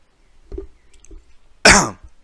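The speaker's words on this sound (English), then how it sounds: "I just coughed right in there" Close, sharp cough bursts out after a couple of soft throat noises, a single loud hacking sound followed by quiet.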